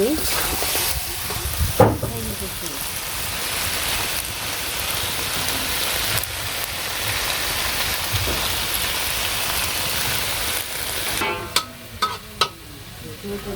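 Egg fries in ghee in a pan with a steady, close crackling sizzle throughout, a few sharp clatters near the end, and a voice speaking briefly.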